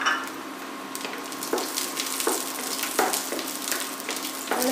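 Chopped garlic fries in hot oil for chilli soya, giving a bright, continuous sizzle with periodic stirring knocks against the pan.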